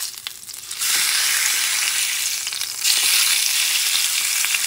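A thick bison tomahawk ribeye steak hits an oiled cast iron pan, setting off a loud, close, continuous sizzle that jumps louder partway through and keeps crackling without talk.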